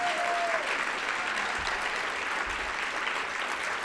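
Steady applause from a conference audience, a dense even patter of many hands clapping at moderate volume for the whole stretch.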